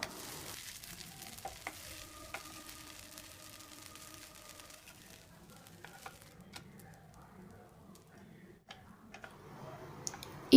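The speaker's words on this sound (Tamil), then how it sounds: "தவாவை நல்லா சூடு பண்ணிட்டு நம்ம செஞ்சு வச்சுருக்க மாவில் தோசை ஊற்றுங்க" Butterfly pea flower dosa batter cooks on a hot tawa with oil, giving a faint, steady sizzle with occasional light ticks and clicks of utensils.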